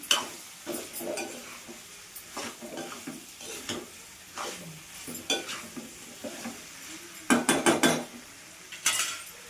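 A spoon stirs and scrapes a curry of taro root with chili powder in a cooking pot, making repeated clinks and scraping strokes over a soft sizzle, close and uneven in rhythm.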